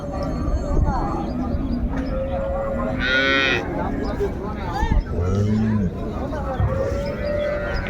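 A dairy cow lets out a loud, drawn-out moo close by at a rural cattle market in Dinajpur, Bangladesh, while people chatter in the background.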